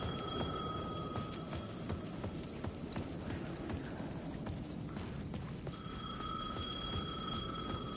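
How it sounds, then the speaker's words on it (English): A payphone in the video game Alan Wake 2 rings in repeated electronic trills, one burst early and another after a pause, over a heavy, rumbling rain-like ambience that fills the whole scene. "The payphone at the edge of the plaza was ringing again."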